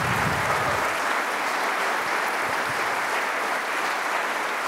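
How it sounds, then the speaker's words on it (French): Applause from an audience in Orléans after a choir performance, dense continuous clapping filling the whole stretch at steady loudness, with no voices over it. "Je pense qu'on peut encore les applaudir."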